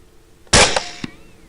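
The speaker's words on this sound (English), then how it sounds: "2 more shots and I think he should be down for good" A single sharp rifle shot fired at a hog during a night thermal hunt in open fields, loud and close, with a short trailing echo.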